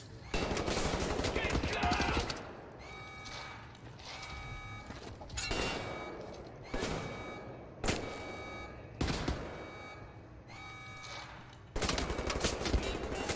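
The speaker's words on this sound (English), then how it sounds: "Someone's shooting at us." Heavy automatic gunfire in the shooter game Wolfenstein: The New Order, with long loud bursts opening and closing the clip and shorter volleys of shots spaced between, close and dominant with faint voices in the background.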